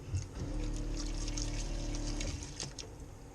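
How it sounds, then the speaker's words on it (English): Hot water runs steadily from a tap aboard a boat while a few tomatoes are washed, a soft continuous pouring hiss that stops abruptly near the end, followed by faint clinks and drips. "Wash our few tomatoes here."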